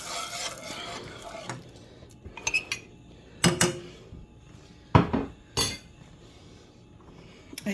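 A slurry is stirred into a boiling pot of milky liquid. Irregular metallic clanks and scrapes of a spoon against the pot come up close, with quieter stirring noises between the louder knocks.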